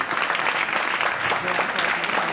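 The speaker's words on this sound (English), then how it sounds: "how about a big round of applause for our volunteers" A burst of clapping from an audience on the Universal Studios back lot ride, dense and sustained throughout, fairly loud and close.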